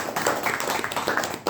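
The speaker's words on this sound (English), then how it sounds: "A big round of applause to the Sergeant at Arms." Applause from the audience at a Toastmasters club meeting, dense clapping from a room of people filling the whole moment, close and fairly loud with no talking over it.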